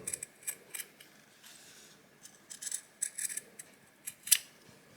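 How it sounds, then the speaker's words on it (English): Scissors snip close to the edge of stretchy fabric for doll clothes, making quiet, crisp cuts in short irregular bursts with faint rustling between them. "I'm now just going to snip close to the"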